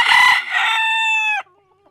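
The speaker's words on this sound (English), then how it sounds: "He's gonna go right to the side and crow." A rooster on a farm crows loudly and close by, one full cock-a-doodle-doo that rises into a long sustained final note and then cuts off abruptly, with no talk over it.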